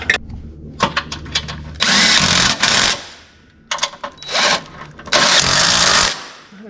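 Power tool tightening RoadMaster tow bar mount bolts on a 2005 American Eagle's towed car, heard up close as several short whirring bursts followed by two longer, louder sustained runs with pauses between.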